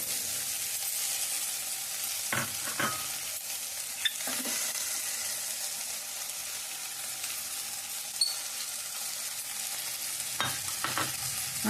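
Ivy gourd frying in oil with coconut sizzles steadily at close range, with occasional scrapes and knocks of a utensil stirring the pan.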